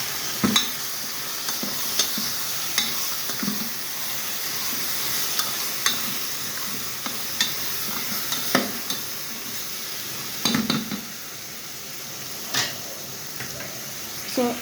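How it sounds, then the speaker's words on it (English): Food is stirred with a spoon in a hot pot over a traditional African cooking setup, giving a continuous soft sizzle and hiss with regular scraping and knocking strokes, close and fairly loud. "I'm gonna use this to hold the spoon, then do the turning."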